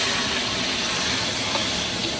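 Chunks of winter melon hiss and sizzle in hot oil with scallion in a wok, a loud, steady, unbroken frying noise with nothing else over it.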